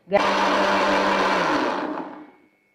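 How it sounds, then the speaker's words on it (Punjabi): An electric kitchen grinder whirs through a tadka spice mix for soybean nugget and potato curry, a loud steady motor burst of about two seconds that winds down and stops. "ਆਪਣਾ ਤੜਕਾ ਗ੍ਰੈਂਡਰ ਹੋ ਚੁੱਕਿਆ ਹੈਗਾ"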